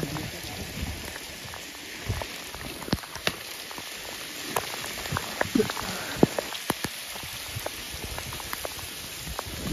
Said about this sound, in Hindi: भाई बारिश।